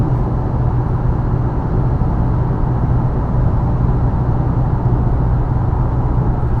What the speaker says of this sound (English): I'm doing nearly 70 miles an hour, and the engine noise and wind noise is very low on it